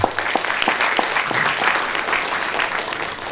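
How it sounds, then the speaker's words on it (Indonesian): Crowd applause at a public community program in Kulim, a lively burst of many hands clapping with sharp individual claps standing out, steady for a few seconds. "Bagi tepukan sikit kat kita punya mantan pada negeri."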